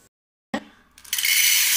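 Dry macaroni pasta poured out for making crisp macaroni chips, a burst of hard little pieces rattling and clinking into a container, building to a dense continuous patter.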